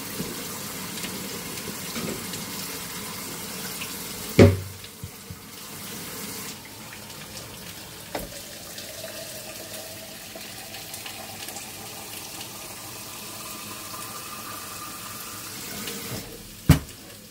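Hot water runs steadily from a kitchen tap in a continuous hiss, with a few sharp knocks and clunks of dishes or a pan near the sink.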